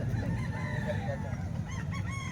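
A father's rooster, kept around a butcher's stall, crows and clucks through a busy, noisy setting, with steady background din and possible voices nearby.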